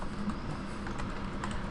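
Fingers typing on a computer keyboard for a Google Classroom assignment, a brief, faint run of soft key clicks lasting under two seconds, with no talk.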